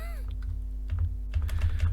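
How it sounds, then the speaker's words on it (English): Keyboard typing on a computer while editing website text, a few light scattered keystrokes followed by a denser burst of clicks, close and fairly quiet over a low steady hum. "We just delete and type"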